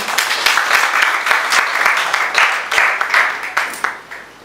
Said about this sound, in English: Please, another round of applause for Carl.